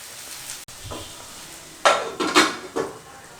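A lid set over a pot of mutton curry on low heat, a few clattering metal knocks and scrapes of pot and lid close by after a quiet start, with no talk.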